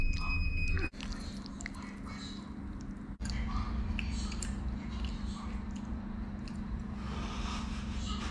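Chewing and slurping of thick, freshly made noodles with a few pieces of plain white meat and chili sauce, eaten outdoors on a cold night; steady close mouth sounds with brief pauses.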